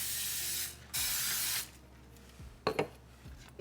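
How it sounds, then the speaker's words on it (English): Cooking spray hisses out in two steady bursts, each just under a second, as it coats a 9 by 13 inch baking pan up close. A few light clinks and rattles of handling follow in a quiet kitchen. "you're gonna get your cooking spray and you're gonna spray your 9 by 13 inch pan"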